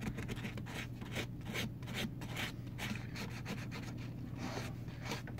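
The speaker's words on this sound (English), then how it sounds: "You just come in, we give a little scrub." Steady, continuous rubbing and rasping as an Umarex M1A1 replica gun is scrubbed by hand near the trigger guard to weather its finish, close and even in rhythm with no voices.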